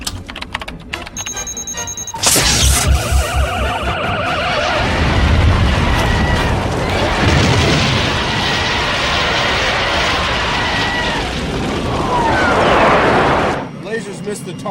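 Laser beams fired at a monster with a blast effect in the Ultraman: The Ultimate Hero series, a loud sustained roaring, whooshing burst after a few electronic beeps, with voices heard alongside.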